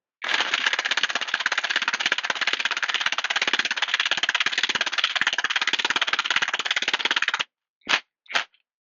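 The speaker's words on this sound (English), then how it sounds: "Then I'll use the hook driver. I'll slot that over." Impact hook driver bit from a Revvstark nut driver set spinning a hook into a hole: a long, loud, continuous rapid hammering rattle of the impact driver for about seven seconds, then two short bursts.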